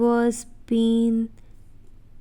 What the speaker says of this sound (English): She let out a huge yawn